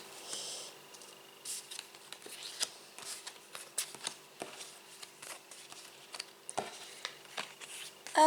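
Tarot cards being turned over and handled on a table during a reading, a close series of sharp flicks, slides and papery snaps in an uneven rhythm with no talking.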